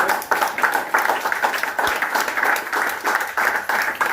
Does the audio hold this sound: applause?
yes